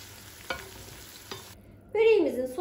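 A spoon stirs black pepper and chili flakes into a sauce in a pan on the stove, with two soft taps followed by a louder, scraping, sizzling swirl near the end.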